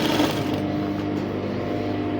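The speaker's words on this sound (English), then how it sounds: "following the line that I created, and now I'm sewing on the radius." Sewing machine stitching a flounce sleeve along a curved line, a close, steady motor hum with fine rapid needle chatter, continuous and without talk.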